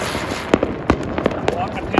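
Diwali firecrackers and spinning chakri fireworks go off nearby in a rapid series of sharp pops and crackles over a continuous hissing fizz, with voices talking throughout.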